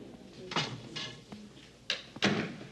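An indoor door is handled and shut: several distinct knocks and thuds spread over under three seconds, ending in two sharper closing bumps close by.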